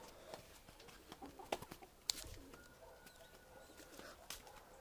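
Pigeon or dove cooing outdoors at a dovecote, a few soft calls and coos rising over a busy background of other bird chirps and ambient rustle, fairly near and moderate in level.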